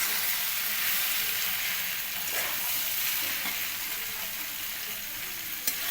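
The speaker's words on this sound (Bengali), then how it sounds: "এবারে এই সয়াবিনগুলো দিয়েও এবার সুন্দর করে কষানো হবে।" Fried soya chunks stir-fried in a pan for chowmein give a steady, close sizzle with hissing crackle throughout, joined by a faint scrape of stirring and one sharp clack near the end.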